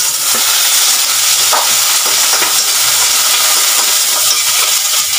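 Ground beef sautéing in a hot oiled pan, a loud continuous close-up sizzle and hiss with faint scraping stir sounds, and no voices.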